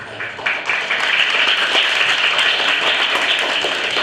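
A crowd applauds a speaker honoured for 26 years of Malayalam stage drama, steady sustained clapping from a sizeable audience, loud and continuous with no talk over it.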